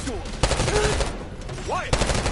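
Gunfire in the Black Ops 6 campaign, loud bursts of rapid shots and sharp cracks close by, with shouted voices and chatter mixed in.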